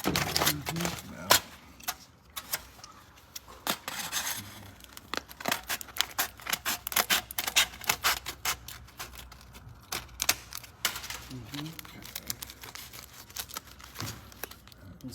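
Scissors snip through card around a sponge with repeated sharp, crisp cuts and crinkly rustles, close and fairly loud across the whole span, with no speech.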